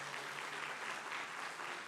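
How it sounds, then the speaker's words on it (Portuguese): A church congregation giving a round of applause for first-time visitors, steady massed clapping heard from a distance at a fairly low level. "Uma salva de palmas a esses irmãos."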